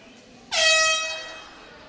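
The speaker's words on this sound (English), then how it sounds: "the air horn has been sounded, signaling a final lap as Margaret is just about finished" A single loud, blaring air horn blast at a swimming race, signaling the final lap, starts abruptly after a short quiet moment and holds, slowly fading toward the end.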